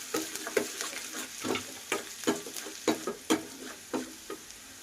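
Garlic and ginger sauté in hot oil, a steady sizzle broken by repeated scraping stirs in an even rhythm, close and alone with no talk.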